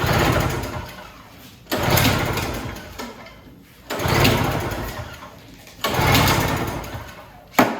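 Three or four hard pull-starts on a snowblower engine with the key on and choke fully closed, each a loud rasping burst of recoil cord and cranking that dies away without catching.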